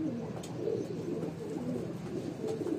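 A male Rampuri cross pigeon coos in soft, low, repeated rolling calls, close and steady throughout, with no speech.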